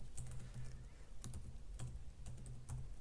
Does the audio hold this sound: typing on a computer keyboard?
yes